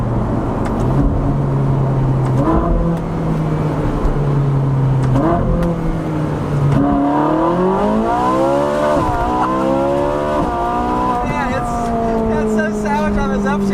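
A loud, close 2013 Ferrari 458 Spider V8 engine revs and climbs through the gears, pitch rising and dropping repeatedly, with a voice talking over it.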